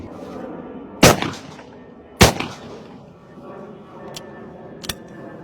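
A Beretta 695 over-under hunting shotgun fires two loud, sharp blasts about a second apart. Each shot trails a short echoing tail, and two faint clicks follow afterward.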